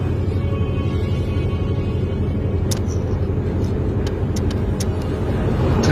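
A car heavily loaded with passengers drives along, its engine and tires producing a steady low rumble from inside the cabin, with a few faint clicks near the end and no talk.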